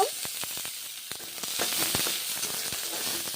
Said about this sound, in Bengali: এখন পেঁয়াজ পেঁয়াজ ভেজে নেব